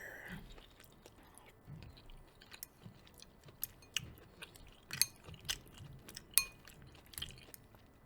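Close, quiet chewing of homemade chili with chickpeas, with soft wet mouth sounds and occasional sharper bites and clicks in an uneven rhythm.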